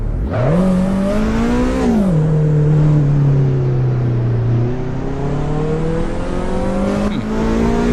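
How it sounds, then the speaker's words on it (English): Engine of a Honda-style VTEC car in the Assetto Corsa Evo racing game revs up steadily, drops at a gear change, then climbs again with a sharp rise near the end, loud and continuous with no talk. "Let's check again the VTEC thingy."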